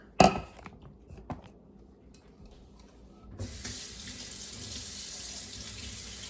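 A tap is opened and warm water runs steadily into a measuring cup, after a few clatters and knocks of the cup being handled nearby.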